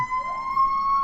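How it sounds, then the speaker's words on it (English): A wailing siren outside in downtown Los Angeles rises and holds its pitch, fairly close and steady, with no one speaking. "Apologies for the siren."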